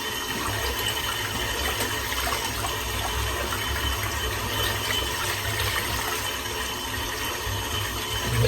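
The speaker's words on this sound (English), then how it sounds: "Right, let's rinse this brush out." Running water splashes continuously as a lather-filled natural hair shaving brush is rinsed under a tap, a steady close rush with no pauses and no talking.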